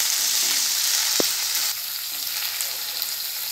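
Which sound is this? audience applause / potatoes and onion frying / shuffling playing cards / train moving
potatoes and onion frying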